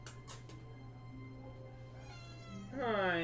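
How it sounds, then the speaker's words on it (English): A female cat meows outside a door, wanting to come in; a clear, loud meow rises near the end over a steady background hum, with fainter sounds earlier. "There's a cat outside. She wants in."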